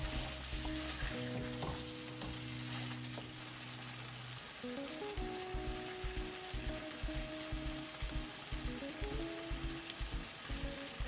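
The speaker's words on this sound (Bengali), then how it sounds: "এখন ক্র্যাবটাকে আমি খুব ভালো করে একটু কষিয়ে নিব।" Three crabs frying and being stirred in a pan for a crab curry, a constant close sizzle with soft stirring scrapes running throughout, alone with no talking and a faint steady tone underneath.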